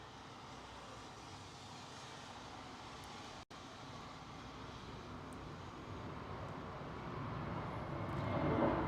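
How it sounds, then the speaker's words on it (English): Steady broadband roar of a United Airlines Boeing 767 jet in old livery departing London Heathrow, engines building slowly louder toward the end, heard from a distance with faint traffic rumble mixed in. "Next one up for departure is a United Airlines 767 with the old livery"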